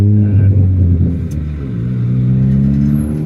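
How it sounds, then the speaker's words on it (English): Loud, deep droning of a tuned Ford Fiesta ST MK7 HP300 exhaust close up, a steady low rumble that dips slightly and then holds as the engine pulls. "that exhaust is quite loud. It's fairly drony."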